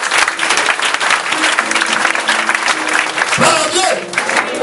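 Church congregation applauding steadily throughout, a dense, continuous wash of clapping with faint singing or voices mixed in beneath.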